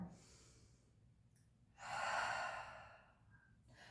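Slow, audible breaths during yoga practice, a soft inhale followed by a longer, louder airy exhale, close and quiet with faint room hiss between.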